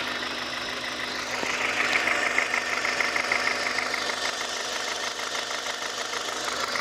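A used Hyundai i30 engine idling, a steady, fairly quiet mid-pitched hum with faint even ticking, heard close and alone with no talk.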